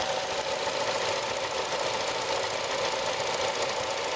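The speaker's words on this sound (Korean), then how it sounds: "엔진 소리 한번 들어볼게요" A Renault Samsung New SM5 Platinum mid-size sedan's engine idles steadily up close with the hood open, a smooth even ticking rumble with no change in pace.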